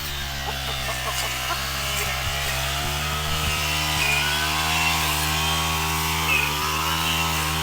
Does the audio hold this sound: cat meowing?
no